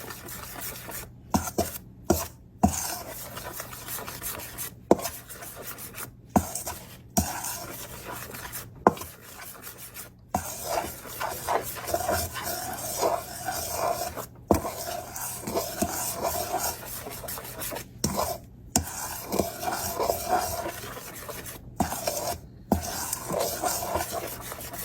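Close, steady scraping strokes as a saltfish pâté mixture with salt is stirred around a bowl, repeating in short bursts with brief pauses between them.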